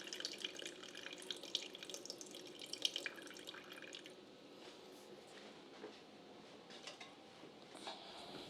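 Pineapple juice drains from a can of crushed pineapple in a quiet trickle, with faint drips and light splashes that thin out toward the end. No one speaks.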